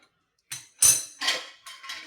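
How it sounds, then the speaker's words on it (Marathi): A metal cake tin set down onto a wire rack inside a pressure cooker for baking an eggless vanilla sponge, giving a few close, sharp metallic clinks and knocks in quick succession. "ह्याच्यावरती खालती मी एक जाळी ठेवून घेतलेली आहे त्यावरती हा आपला केकचा डबा ठेवायचा"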